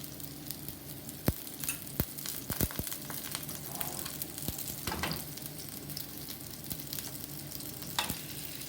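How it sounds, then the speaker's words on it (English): Chicken seekh kebabs sizzle quietly in a pan, a soft steady frying hiss broken by sharp clicks and taps of a utensil at irregular intervals, with no one speaking. "After 2 minutes, we'll turn the kebab and then we'll put it in another pan to cook on slow."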